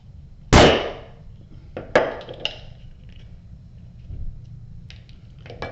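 A leather punch cuts through a leather strap with one sharp loud snap, followed by a couple of smaller clicks and taps at close range, the gaps between them quiet.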